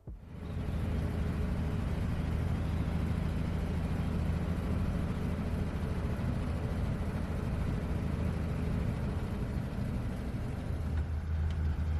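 A restored 1935 Dodge vintage car drives along with a continuous low engine rumble and road noise, steady and moderately loud from start to finish with no voices.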